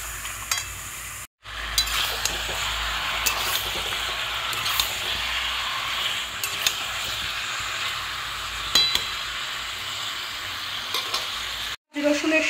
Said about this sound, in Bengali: রসুনের সাথে এই চিকেনটাকে কষিয়ে নেওয়ার পরে